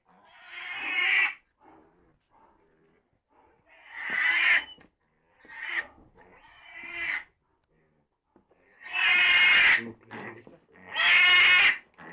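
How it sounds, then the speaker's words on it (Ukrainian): Several loud, close pig grunts and squeals from piglets as they eat, in bursts separated by short pauses, with a few softer snorts in between. "Нічого такі свиненькі, їдять, усе, бодренькі."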